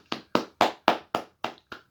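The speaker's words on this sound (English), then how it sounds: "give yourself a hand clap" Seven sharp hand claps in an even, steady rhythm, each crisp and fairly loud with a quick decay, spaced about a quarter second apart with silence between.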